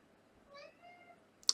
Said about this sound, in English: my cat is meowing in approval of these miniatures